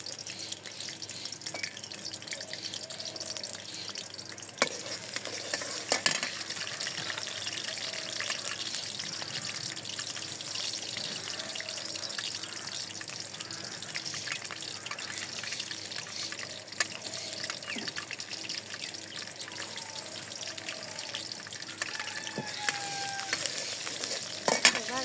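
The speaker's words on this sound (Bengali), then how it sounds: "তেল দিয়ে দিই, পেঁয়াজ কুচি দিয়ে দিলাম" Chopped onion fries in hot oil in a pan, a continuous close sizzle with intermittent scraping clicks from stirring throughout.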